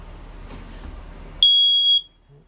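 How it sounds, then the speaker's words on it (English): A smoke detector in a 2022 Forest River RPOD 192 travel trailer lets out one loud, piercing, steady beep lasting about half a second, close by, after quiet room tone. "Up from there, you get your smoke detector."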